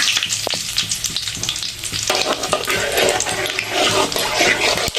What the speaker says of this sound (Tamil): தேவையான அளவுக்கு எண்ணெய் ஊற்றிட்டுங்க கடுகு சேர்த்துக்கலாம் இது நல்லா பொரிஞ்சிச்சு காஞ்சி மிளகாய் சேர்த்துக்கலாம்